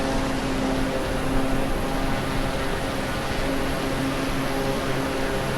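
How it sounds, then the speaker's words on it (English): Steady, loud drone of an airplane engine in Microsoft Flight Simulator 2020 during a sightseeing flight over Honolulu, with a constant hum and tonal bands held evenly throughout, no voices. "We can hear the plane"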